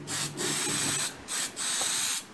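Yellow spray paint is applied to the underside of a fake snake in three or four short hissing bursts separated by brief pauses, close and fairly quiet.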